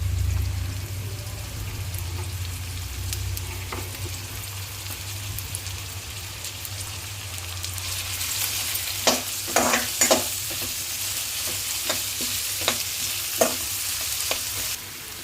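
Onions, garlic and green chillies frying in hot oil, a continuous crackling sizzle that swells in the second half with repeated sharp scraping clicks of a spoon stirring the pan, fairly loud, with no voices.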